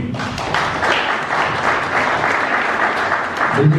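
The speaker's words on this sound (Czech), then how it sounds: "já bych jim rád za zatleskal veřejně" Loud, sustained audience applause at a formal opening ceremony: a close, steady wash of many hands clapping without pause, with a few low thuds near the end.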